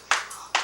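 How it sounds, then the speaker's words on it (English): Two sharp hand claps a little under half a second apart, close and fairly quiet, with a faint tone lingering between them. "Clap for her, girl."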